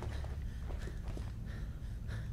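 Running footsteps in the video game ZombiU: a quick, even series of soft thudding steps over a heavy low background rumble, fairly close.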